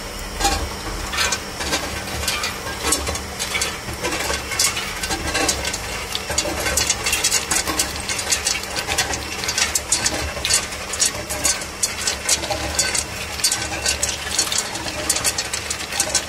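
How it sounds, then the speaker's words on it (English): Flooded refrigeration cube-ice machine running while producing ice, a continuous mechanical hum with rapid clattering and knocking, steady and fairly loud throughout. "we are making videos to prove that our flooded refrigeration cube-ice machines can make very solid ice cubes"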